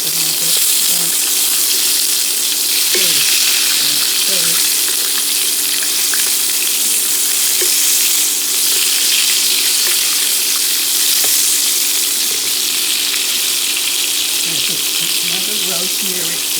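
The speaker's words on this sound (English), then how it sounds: "Okay, I got this steak in the pan." Steak searing in a pan with garlic and rosemary, heard as a loud, steady frying sizzle that runs throughout, with faint scraping and a few quiet utensil sounds underneath.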